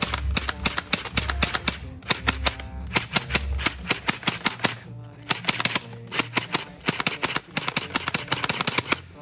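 Rapid bursts of sharp snapping shots from a gel blaster toy gun upgraded with two springs, firing in quick volleys with brief pauses between runs, loud and close.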